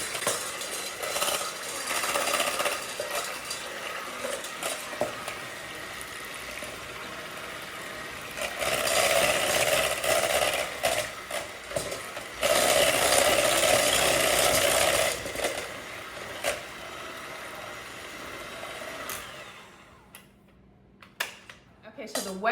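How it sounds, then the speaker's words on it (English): A blender whirs and grinds through wet muffin ingredients in a non-glass bowl, a loud, rough mechanical roar that surges and dips for about twenty seconds before cutting out, with a few faint clicks afterward. "But I'm going to blend this until it is creamy."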